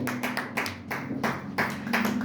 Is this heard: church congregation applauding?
yes